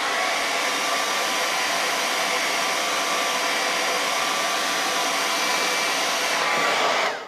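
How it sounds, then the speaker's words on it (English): A hair dryer blowing on fresh paint on a statue, a steady, loud, close whirring hiss of air that holds constant for about seven seconds before switching off. "Hit it with the hair dryer."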